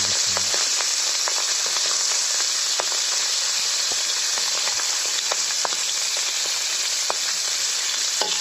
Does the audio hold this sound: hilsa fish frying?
yes